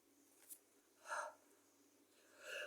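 A sudden sneeze bursts out once, fairly close, in a quiet room after a brief breathy sound, with a second softer burst near the end.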